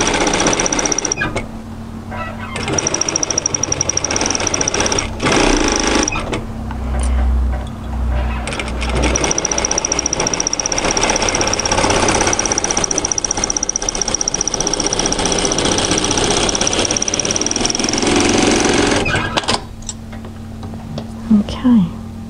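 A sewing machine stitches a strap for a cowl-neck camisole, its motor whirring in long, steady runs with a brief pause early on and stopping near the end.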